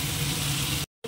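Potato and pointed gourd hit a pan of cooked spice paste and fry with a loud, dense sizzle for under a second before it cuts off abruptly.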